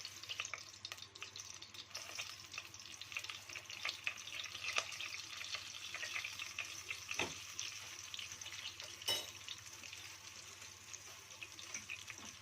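Flour stirred quickly into ghee in a hot pan, a steady soft sizzle with scraping and stirring noises, quiet and close, with no talking.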